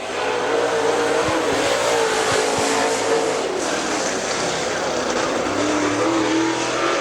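A Super Late Model race car engine roars loudly and steadily throughout at Dixie Speedway, a sustained high-pitched drone with shifting tone as the car speeds past.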